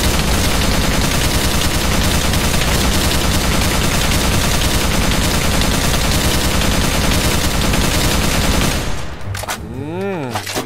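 Sustained rapid video game gunfire pours out loud and dense at a demonic monster with 5,000 health for nearly nine seconds, then cuts off and gives way to quieter warbling effects at the end.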